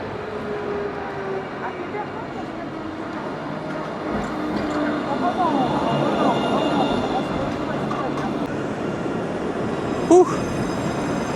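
Rumbling ride aboard a crowded Bordeaux tram at evening rush hour, a steady rolling drone with a muffled murmur of passengers' voices and a brief sharp clack near the end.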